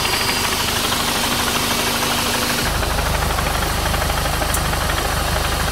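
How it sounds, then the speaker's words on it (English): A Volkswagen GTI engine runs with a steady rattling, ticking knock, a loud, continuous mechanical clatter over a low drone that shifts in character midway through. "I started to hear a rattling slash ticking noise that almost sounded like engine knocks"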